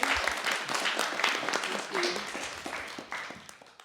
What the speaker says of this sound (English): Would you like to join me in giving a round of applause?